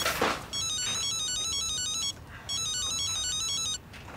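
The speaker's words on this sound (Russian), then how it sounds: "Телефон." An electronic ringtone rings twice, each a bright, repeating trill lasting about one and a half seconds with a short pause between them, sounding moderately loud in a quiet indoor room.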